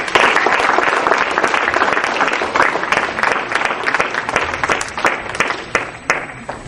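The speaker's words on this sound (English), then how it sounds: "Let us give him a round of applause" Sustained applause from a seated audience welcoming an emergency medicine doctor onto the stage at a Hindu summit in California, dense and loud throughout, thinning slightly toward the end.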